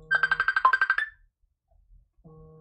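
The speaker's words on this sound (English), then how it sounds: "I cannot believe that this phone is ringing, but there's no way to answer it" Phone ringing with a rapid trill of about nine electronic pulses lasting around a second, followed by silence and a faint tone.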